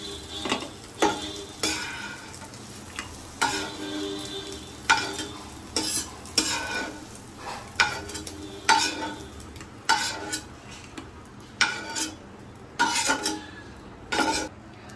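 Fried egg bhujia, an omelette scramble left in fairly large pieces, being scraped from a hot pan into a bowl: repeated sharp spoon-on-metal scrapes and clinks in an irregular rhythm over a soft background sizzle, with no talking.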